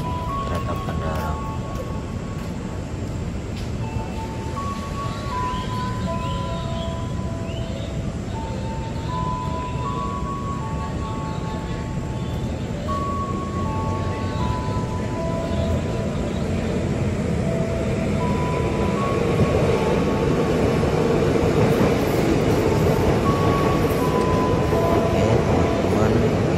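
An airport train moves through the busy Tanah Abang transit station, a sustained rumble with tonal motor whine that grows louder toward the end amid station ambience.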